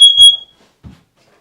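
A smoke alarm gives a loud, shrill electronic beep that cuts off after a fraction of a second, followed by a faint low thump in a quiet room.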